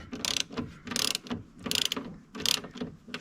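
A ratchet fitted with a 13 mm socket clicks in four quick bursts while loosening a bolt on a John Deere compact tractor during fuel tank removal, close and clear with no talking.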